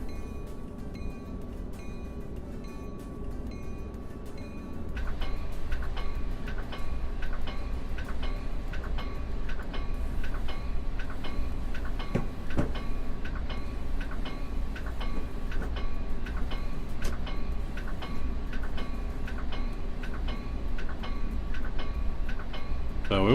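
A Metrolink commuter train rolls along in Trainz Simulator, a steady low rumble with regular ticking clicks that grows louder and fuller after a few seconds and holds as a constant running drone.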